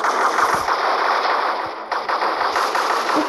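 Video game battle with guns pitted against spear throwers, a dense loud barrage of rapid machine-gun and rifle fire rattling continuously, close and unbroken.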